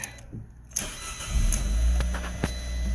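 A Fiat car engine cranks and catches, then settles into a steady near idle with a low rumble and a few clicks and knocks.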